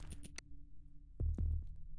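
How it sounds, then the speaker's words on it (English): Low, thudding heartbeat effect from the dungeon-crawler game Scales and Scraps, a double-pulse beat near the end after quieter clicks and a faint steady hum. "The heartbeat's great too."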